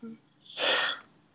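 One sneeze from a person, a short breathy build-up and then a broad burst lasting about half a second, fairly close, followed by a brief sharp click.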